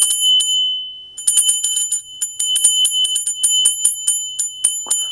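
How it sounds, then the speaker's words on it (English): A small Japanese Buddhist bell, a kokoriko, rung repeatedly with bright, piercing metallic strikes, a few spaced hits and then a quick irregular run of rings, loud and close with a sustained high shimmer. "This is a kokoriko. It's a Buddhist bell."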